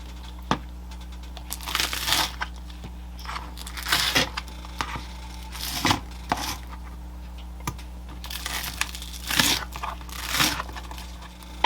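Knife cutting green onions and snow peas on a board, a handful of crisp, separate crunching chops spaced a few seconds apart, close and moderately loud over a low steady hum, with no talking.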